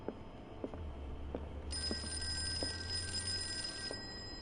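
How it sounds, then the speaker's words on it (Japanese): A telephone rings in the Call of Cthulhu horror video game. A steady electronic trill sounds for about two seconds over a low background hum and faint clicks, fairly quiet and with no talk. "電話に出ないという選択肢もあるのかな。"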